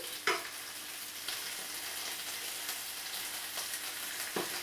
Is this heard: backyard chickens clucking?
no